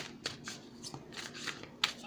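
Tarot cards are shuffled up close, a quick series of soft riffling flutters and taps over about two seconds.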